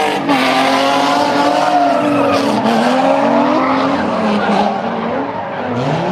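Drift car on a street-league practice track sliding sideways, loud sustained tire squeal with a wavering engine note running continuously throughout, close and intense.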